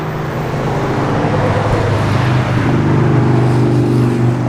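A 1968 Chevrolet C10 pickup truck drives down the road with a steady, loud engine drone and rolling road noise, shifting slightly in tone midway with no talking.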